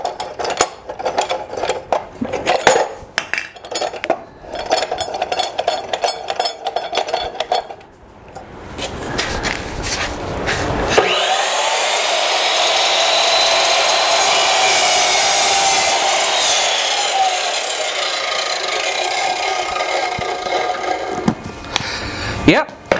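An Evolution Rage 2 cold cutoff saw cuts through wood with a loud, steady, high whine that lasts about ten seconds and then winds down. Clattering handling noises come first and there is some nearby talk.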